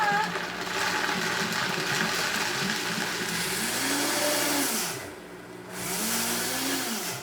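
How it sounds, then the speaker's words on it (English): A Vitamix high-speed blender grinding nuts, a loud steady motor whine with rising and falling pitch as the load shifts, running continuously close by. "it works really well if you have a high-speed blender like our Vitamix"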